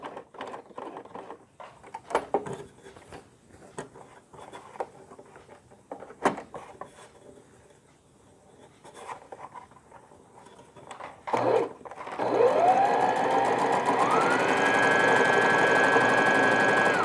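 A sewing machine stitches the bottom piece onto a newborn frock: scattered handling clicks and rustles, then the motor starts loudly near the end and runs steadily, its whine rising in speed until the clip ends.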